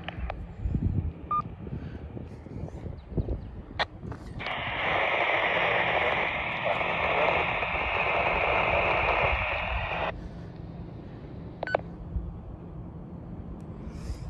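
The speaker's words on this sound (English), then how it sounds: "all I'm hearing is mostly static and barely any audible" Harsh radio static hisses through a GMRS repeater for several seconds, loud and steady, then cuts off, surrounded by fainter crackle and a few brief tones.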